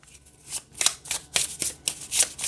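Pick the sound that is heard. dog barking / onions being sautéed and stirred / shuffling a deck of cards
shuffling a deck of cards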